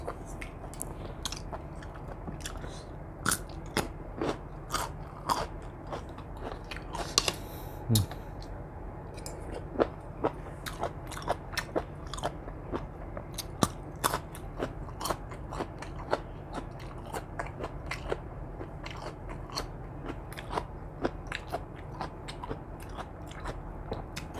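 Crunchy spicy Thai squid salad chewed close to the mic, a long run of loud, sharp, irregular crunches and bites with brief pauses.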